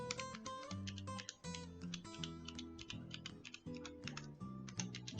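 Fingers type steadily on a computer keyboard while a QMK keymap is being set up, the clicks quick and close against soft background music, with no talking.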